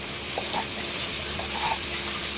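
Vegetable biryani ingredients with cashews, salt and chili powder being stirred in a pot, a soft continuous scraping and faint sizzle with a couple of brief stir strokes, close and steady with no talking.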